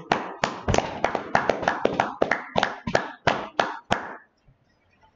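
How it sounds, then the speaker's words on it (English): About a dozen distinct, loud claps at a live class, spaced in a steady, slightly uneven rhythm, nearby and clear, then fading into near silence. "Let's clap it up."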